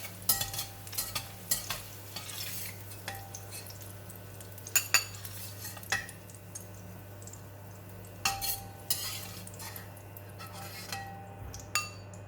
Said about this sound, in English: Onion is now nice and soft, and I'm going to remove it from the pan and put it in a bowl first.